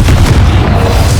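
A Confringo blasting curse in Hogwarts Legacy goes off as one loud, close, booming explosion that fills the short moment with a heavy rumble.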